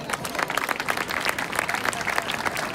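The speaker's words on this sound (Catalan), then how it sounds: "Un fort aplaudiment per ells." A crowd applauds at the Barceloneta festa major in Barcelona during a naming ceremony for small festival giants, with dense, steady clapping close by throughout.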